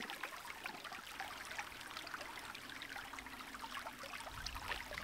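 Creek water that feeds a hydraulic ram pump's supply pipe rushes and trickles in a steady, soft hiss, faint and continuous with no talking.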